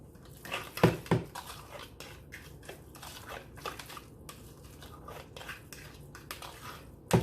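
A utensil stirs egg salad with black pepper in a bowl, giving irregular soft scrapes and clinks, with a few sharper knocks against the bowl and quiet stretches between strokes.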